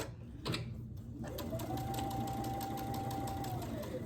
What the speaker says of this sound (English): And then I'm just going to do the same thing and sew them on just like we did, starting with the underneath layer.